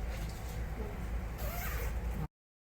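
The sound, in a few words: zipper of protective gown being opened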